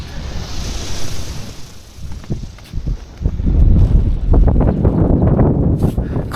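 Breeze and lapping waves around a sailboat at a mooring in Savusavu, Fiji: wind rushes over the microphone, then water slaps and splashes more loudly and close by for the second half.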